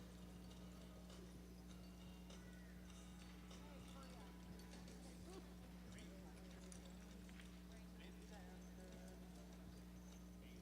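Hooves of registered mares pulling carts in a show-ring cart class clip-clop in a steady, fairly faint patter under a constant loud hum and background talk.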